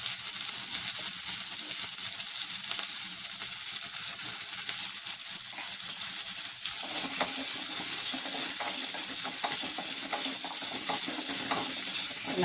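Onions sauté in oil with a pinch of salt in a pan, giving a continuous loud sizzle with stirring scrapes that grow busier after the midpoint; no talk.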